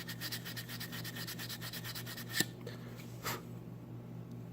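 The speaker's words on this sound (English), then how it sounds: "Using a metal sandpaper, which is a very fine sandpaper" Fine metal sandpaper rubbing corroded bake coil contacts on a GE Profile JTP95 oven, a close, rapid scratchy back-and-forth rasping in a steady rhythm, followed by a couple of faint clicks and quieter handling.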